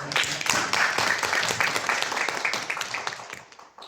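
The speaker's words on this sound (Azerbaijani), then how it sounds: "Alqışlarınız." Audience applause at a library event in the Xətai district central library, a steady crowd of clapping hands sustained for several seconds, fairly close, gradually thinning toward the end with no talk over it.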